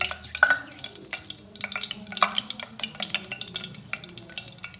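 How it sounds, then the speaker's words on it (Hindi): Whole spices (green cardamom, cumin, black pepper and cinnamon) being stir-fried in ghee for a chicken Peshawari handi, giving a soft crackling sizzle broken by irregular scraping and stirring clinks, close and fairly quiet. "इसको डाल के हमने इसको थोड़ा सा स्टर फ्राई कर लिया।"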